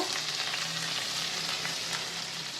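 Vegetables and chopped chili fry in hot oil for glass noodles, giving a constant, even sizzle with light stirring throughout, heard alone and fairly faint.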